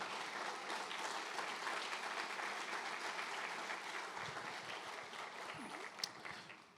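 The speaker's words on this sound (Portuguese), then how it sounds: "dá ao Senhor a sua melhor salva de palmas" A church congregation claps together in sustained, dense applause that fills the room, gradually thinning toward the end with a few scattered claps and a small knock.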